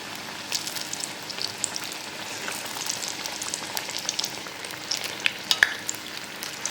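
Onion bajji deep-frying in oil over a medium flame, a steady crackling sizzle with scattered sharper pops, alone and with no talk.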